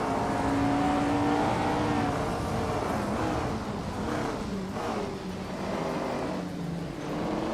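A 1993 Lancia Delta HF Integrale race car in a video game, its engine droning and revving steadily with rising and falling pitch as other cars roar close by.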